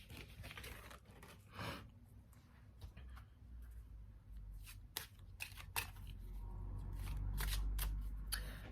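Lenormand fortune-telling cards being shuffled by hand, a soft papery riffle and patter with scattered sharper flicks, close and quiet with a low rumble beneath and no talking.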